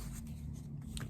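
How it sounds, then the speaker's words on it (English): Abrasive sanding along the edges of glued leather pieces for a Gucci tote, a steady close scratchy rasp running continuously without pause over a low background hum. "Then I go and sand the edges to make them a little"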